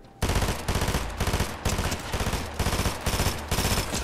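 Rapid bursts of shotgun and SMG gunfire in a Fortnite-style shooter match, loud and close, rattling in repeated clusters with brief gaps between volleys.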